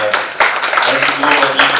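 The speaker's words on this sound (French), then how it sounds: "Oui, on peut applaudir." A short burst of clapping from a conference audience, rising and falling quickly.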